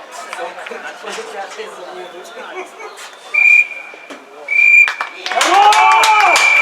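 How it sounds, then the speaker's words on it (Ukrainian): Referee's whistle sounding at the end of a lower-league district football match, with steady high whistle blasts over crowd chatter and commentary, followed by cheering and applause rising at the close. "Три свистка лунає."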